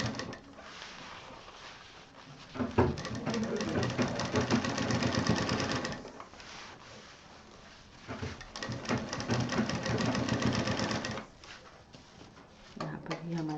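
Sewing machine stitching fabric for a round table cover, heard as two sustained bursts of rapid mechanical whirring separated by a quieter pause, with a little handling noise in between.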